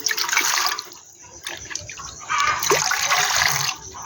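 Water is poured into a pot of tamarind left to soak with salt, making a close, splashing stream that stops and restarts, with no talking.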